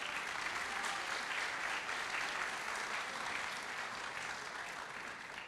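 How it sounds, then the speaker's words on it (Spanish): Steady, continuous applause from an audience at a cultural homage on film and literature, heard at a low, somewhat distant level with no talking over it. "un aplauso a Mutis"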